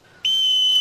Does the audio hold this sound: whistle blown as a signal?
yes